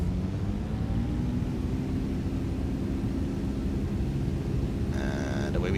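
Aircraft engine at full takeoff power in X-Plane 12, a loud, steady broadband roar with a low drone, continuous throughout, with brief faint tones near the end.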